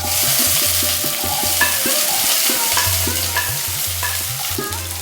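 Finely chopped small shallots and fenugreek seeds frying in hot oil for a Kerala-style brinjal curry sizzle loudly and continuously, close up, with a dense crackling hiss and faint rhythmic pops throughout.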